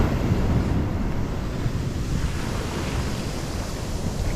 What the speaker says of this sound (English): we're back at another beach